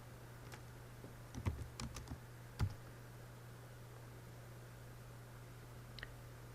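Computer keyboard typing a search into a Chrome browser: a short burst of soft key clicks, then a single later click and a faint tap, close and quiet against a steady low hum.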